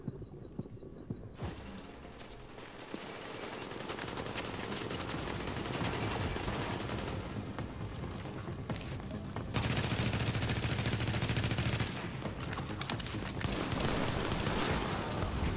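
Sustained automatic gunfire in the shooter game The Division, dense rapid bursts crackling nearly throughout, growing louder in the second half with sharp, loud volleys and no talk over it.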